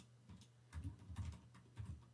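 Typing a command on a computer keyboard in a Linux terminal under Windows, with a few quiet, close key taps in short clusters over a faint hum.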